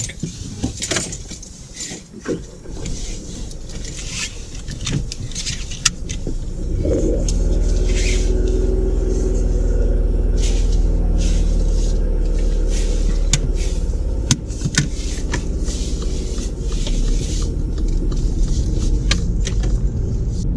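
A learner driver's car moving off on a driving test, with keys and handling noises at first, then a steady low engine rumble that settles in and continues at moderate loudness.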